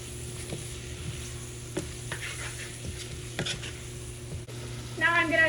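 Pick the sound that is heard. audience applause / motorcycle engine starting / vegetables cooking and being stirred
vegetables cooking and being stirred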